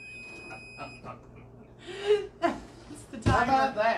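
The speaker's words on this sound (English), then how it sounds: "The timer on the stove." A stove timer gives a steady high electronic tone for about the first second. Voices, gasps and laughter follow.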